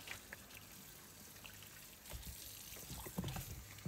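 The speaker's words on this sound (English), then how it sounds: "she's washing the plantain to make sure that all the dirt that might have attached themselves on the plantains" Running water trickles steadily as plantains are washed by hand under it, a continuous soft splashing that grows louder and more broken toward the end, with no talk.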